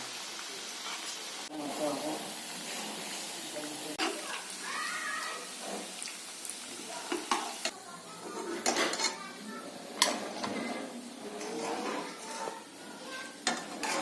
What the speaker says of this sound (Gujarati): આ જે મુઠિયા બનાવ્યા છે એના ગરમ મૂકેલા ઘીમાં આપણે તળી લેવાના છે અને મીડિયમ ગેસ તાપે તળવાના છે